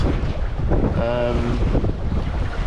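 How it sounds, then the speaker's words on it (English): Wind rushes steadily across the microphone while sailing slowly, about 4 knots, in light air, with water and wave wash around the boat and a brief tonal hum in the middle; no one speaks. "The wind, however, is not as strong as we were anticipating, so we're only doing about 4 knots"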